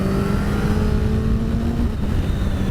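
A Suzuki GSX S1000GT motorcycle engine pulls hard under acceleration, a steady loud drone heard from the rider's position with a brief dip as the quick shifter changes gear.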